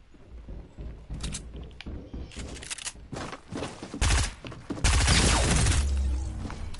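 Video game gunfire in a late-night solo match: rapid bursts and single shots crack close and loud, building to sustained heavy fire near the end, with a little talk mixed in.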